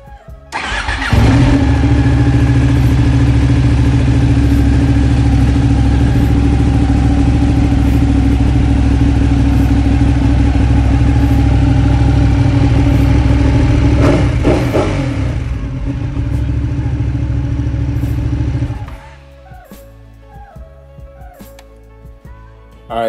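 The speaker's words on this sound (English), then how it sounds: "So I'm just gonna go ahead and start the bike up." A Ducati 959 Panigale, its ECU freshly flashed with a BrenTuning handheld tuner, cranks and fires up close by. It settles into a loud, steady idle for about eighteen seconds, then shuts off, leaving faint clicks.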